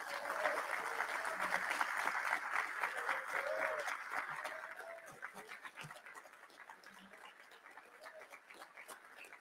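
Audience applause for the 2020 graduating class of the Command and General Staff course at a recognition ceremony. The clapping is dense at first, then thins to scattered claps, with a few faint tonal sounds over it.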